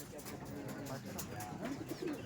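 Soft, low cooing of pigeons being flown from a home loft, amid a busy outdoor background with faint murmuring, continuous and fairly quiet.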